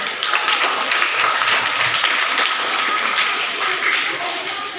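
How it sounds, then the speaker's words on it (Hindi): A school audience claps together for the girls on a results day, a dense, steady wash of many hands that holds throughout with no talking. "इसके लिए सभी लड़कियों के लिए एक बार तालियां बजाइए आप"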